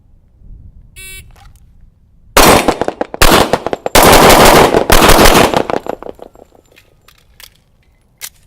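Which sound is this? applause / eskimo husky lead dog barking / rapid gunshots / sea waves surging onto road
rapid gunshots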